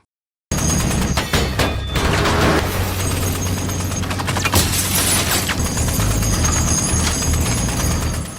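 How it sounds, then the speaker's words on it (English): Loud, close bursts of machine gun fire disable a president's armored vehicle in an action film scene. Rapid rattling volleys are mixed with impacts and mechanical clatter and carry on almost without a break. "the president's armored vehicle was disabled by machine gun fire"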